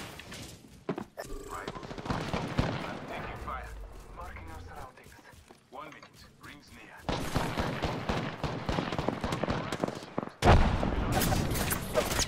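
Sniper and other gunfire in the battle royale video game Apex Legends, loud bursts of shots recurring over continuous gameplay noise, with players talking throughout.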